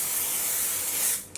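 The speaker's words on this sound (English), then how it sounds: "I'm gonna set my makeup first with the Dior Air Flash Radiance Mist" Dior Air Flash Radiance Mist, a primer and setting spray, gives one long steady aerosol hiss lasting over a second, close and fairly loud. It fades out near the end and is followed by a brief faint puff.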